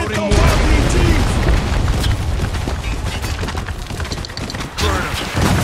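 Mortar strikes from Spec Ops: The Line land as heavy booms and crackling bursts, a dense barrage of loud, close detonations that thins out, then swells again near the end.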